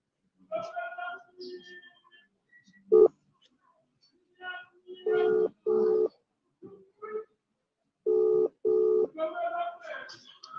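A phone dials out for a live call to South Africa: short keypad beeps come in pairs of sustained tones, separated by brief gaps and scattered softer electronic chirps.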